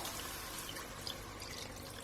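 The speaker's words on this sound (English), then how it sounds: "I'm now going to add a bit of water" Water poured into a simmering curry sauce for chicken kofta, a steady close trickle and splash running evenly throughout without pause.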